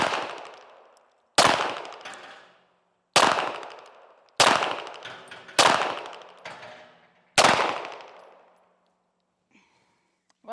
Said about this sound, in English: let's shoot some more rounds. I'm going to move over to some other steel